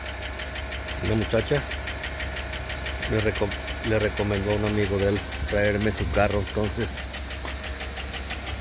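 A car engine with faulty lifters runs at idle, giving a steady rapid metallic ticking close to the microphone while someone speaks Spanish over it.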